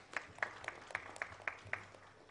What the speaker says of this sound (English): A huge round of applause for our partners.